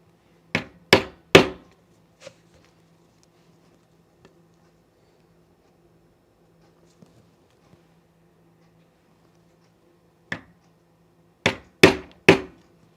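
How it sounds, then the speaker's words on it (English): A very sharp chisel cuts through blazer fabric with sharp, close knocking strikes: three quick hits at the start, one lighter tap, a long quiet stretch, then four more hits near the end. "That sound where the chisel's cutting the fabric."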